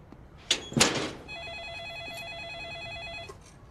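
A telephone rings with a steady electronic warbling trill lasting about two seconds, preceded by a couple of thumps and clatter nearby, in a quiet room.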